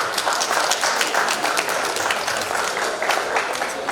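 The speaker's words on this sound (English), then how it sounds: "Let's clap for them." Audience applause at a ladies' golf tournament event, heard as dense, steady clapping from a crowd close by that carries on throughout.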